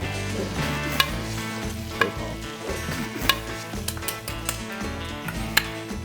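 Butter sizzles in a ribeye steak pan while a utensil scrapes up the fond, with steady frying hiss and several sharp metallic clinks and scrapes against the pan, close and fairly loud.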